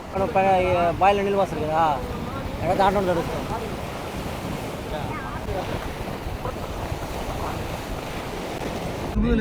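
Surf rolling onto the open sea shore at Dhanushkodi at the southern tip of India, a steady wash of waves under strong wind buffeting, with a person speaking over it in the first seconds.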